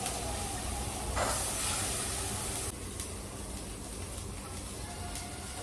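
A handful of dry green peas lands in hot rice bran oil with chilli powder, bursting into a loud hissing sizzle that settles after a few seconds into a quieter, steady frying crackle, close by, with no talking.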